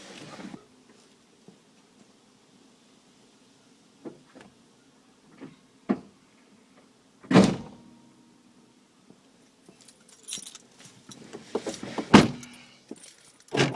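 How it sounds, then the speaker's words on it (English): The bonnet of an Isuzu Bighorn Irmscher drops shut with one sharp, loud thud in a quiet setting, surrounded by scattered small clicks and handling knocks. "I'll just drop the bonnet."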